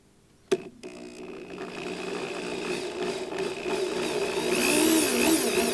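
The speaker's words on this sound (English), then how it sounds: "slowly begin to drill" A sharp click, then a power drill whirring steadily and rising in pitch as it bores into a wooden guitar neck, loud and close.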